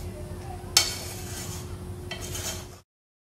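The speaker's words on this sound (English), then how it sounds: "1/2 cup of milk," Milk stirred into a recipe mixture in a bowl: a sharp clink of a utensil against the side, then a soft continuous swishing and scraping that fades out after a couple of seconds.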